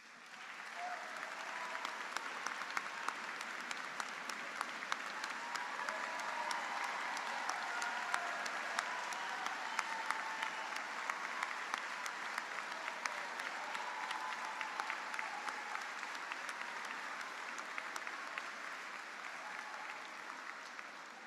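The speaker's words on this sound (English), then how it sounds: "let's all give them a round of applause" At a university engineering commencement ceremony, a large audience gives sustained applause, a broad, even roar of clapping in a big hall that rises and holds for over twenty seconds, with faint voices mixed in.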